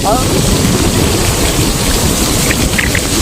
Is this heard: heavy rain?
yes